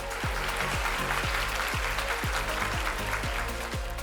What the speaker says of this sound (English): Round of applause for Shuva.